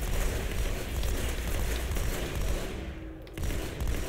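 Rapid gunfire from the video game Halo 2 while a vehicle drifts, a dense, continuous rattle of shots with a brief drop near the end before resuming.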